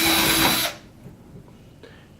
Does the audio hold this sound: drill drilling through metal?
yes